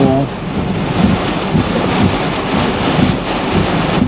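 Hurricane Helene's northern eyewall lashing Tifton, Georgia, with heavy rain and gusting wind roaring as a dense, continuous wash, loud and close, wind buffeting the microphone.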